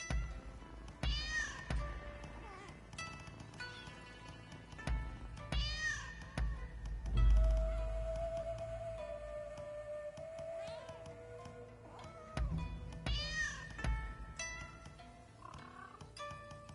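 A cat in the video game Rise of the Ronin meows in several short, spaced calls, fairly faint over a quiet game background with a soft sustained tone in the middle.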